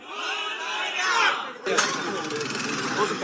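A large crowd at a night political rally chants slogans loudly, a roaring mass of voices that swells, breaks off briefly, then surges back in unison.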